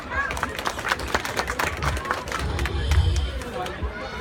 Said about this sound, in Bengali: আবারও হাততালি দেই প্লিজ